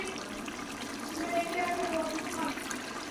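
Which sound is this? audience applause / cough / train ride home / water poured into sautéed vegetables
water poured into sautéed vegetables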